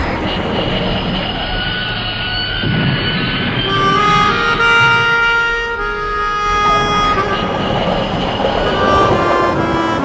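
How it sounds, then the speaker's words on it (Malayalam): A long-distance train on the Trans-Siberian Railway rumbles steadily close by, with sustained metallic wheel squeal tones rising and shifting over the constant rolling roar. "ട്രാൻസ് സൈബീരിയൻ റെയിൽവേയിൽ സുദീർഘമായ ഒരു യാത്ര"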